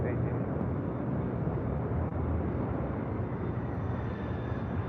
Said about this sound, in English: This is United Airlines 801 taking off to Hong Kong on a 787-9 Dreamliner